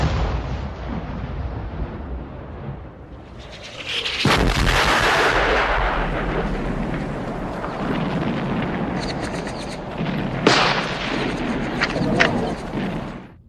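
A 40-pound World War I artillery shell fires and explodes with a sudden heavy blast after a low rumbling lead-in, followed by sustained roaring debris noise and a few sharper cracks near the end.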